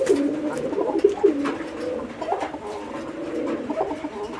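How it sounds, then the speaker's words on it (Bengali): Young pigeons for sale cooing in soft, repeated low burbling calls, close and steady, with no talk over them. "তো আপনারা দেখেন কবুতরগুলো।"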